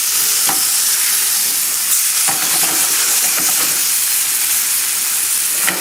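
Chilean sea bass fries in hot oil in a pan, a loud, continuous close-up sizzle and hiss with scattered crackling pops throughout.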